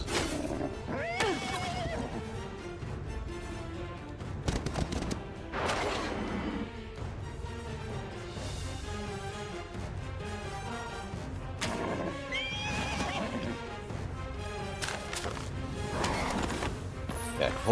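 A horse in a video game whinnies several times and its hooves clatter, set against a busy, layered game mix full of crashes and clashing sounds.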